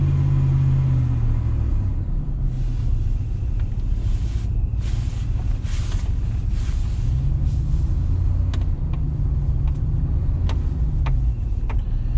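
A 2012 Hemi 1500 pickup fitted with a standard-style stall converter cruises on the road in about 50-degree weather, giving a steady loud low engine drone with rising and falling revs, tire rumble and wind, with no talking.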